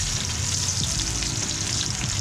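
A wagyu schnitzel fries in oil that has become too hot, slightly burning. It gives a dense, continuous crackling sizzle, close and steady throughout, with no voices.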